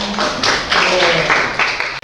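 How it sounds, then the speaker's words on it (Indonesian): A classroom of students claps for a classmate named Jonathan, a short burst of applause at close range under a teacher's talking voice. "Tepuk tangan untuk Jonathan"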